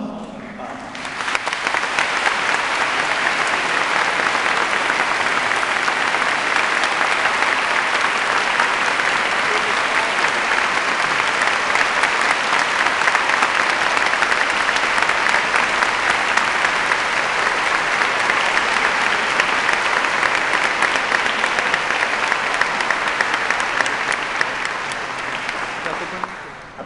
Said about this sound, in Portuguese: os cumprimentasse e os saudasse com uma calorosa salva de palmas